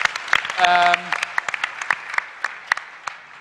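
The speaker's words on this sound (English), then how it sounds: "Let's have a big round of applause for entrepreneurial resilience" Conference audience clapping, scattered claps close by that stay fairly thin and uneven, with a tonal chime and voices briefly mixed in near the start.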